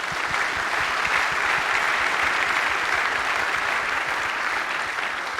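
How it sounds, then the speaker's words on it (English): Steady, even applause from a conference audience at a railway signalling event rolls on without a break for the panelists, a dense wash of clapping with no voices over it. "So big applause to the panelists."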